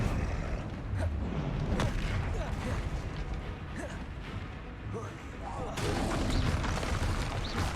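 Spell blasts from a Confringo casting in Hogwarts Legacy during a troll fight, with heavy explosive booms and crashing impacts rolling continuously under a spoken incantation, then a louder burst near the end.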